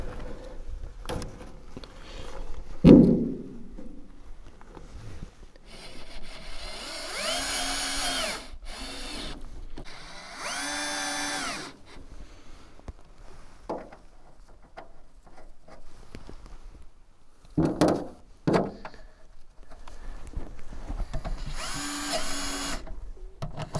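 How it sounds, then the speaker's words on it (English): A power drill drives screws into the lid of a home solar storage battery built from a 62 kWh VW ID.3 pack, several rising whining bursts of a few seconds each, close and loud, separated by quiet pauses and clicks. "So now I just will screw on the lid here."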